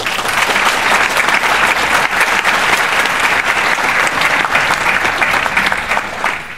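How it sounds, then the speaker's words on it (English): A Transformers convention audience at a BotCon panel claps loudly and steadily, a dense wash of applause filling the hall for several seconds before starting to taper. "Give another big round of applause"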